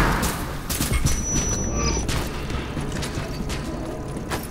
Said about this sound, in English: Gas grenade.